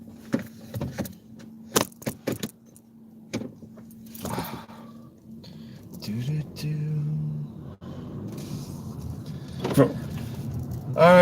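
A car is handled close by during an errand run: keys jangle, a door clunks and power windows whir, then a low engine hum settles in, with people talking throughout.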